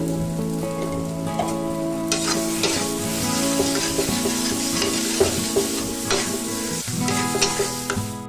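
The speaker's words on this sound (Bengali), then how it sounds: "এখানে এবার আমি কড়াইতে সামান্য একটু নেড়ে নেব" Dried lote fish paste is stirred in a wok with salt, a steady scraping and sizzling that carries on without a break, up close. A tonal hum runs underneath it.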